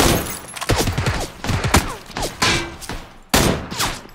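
Bursts of gunfire in PUBG coming from a nearby building's second-floor window, a rapid series of sharp close shots with cracking impacts and pauses between volleys.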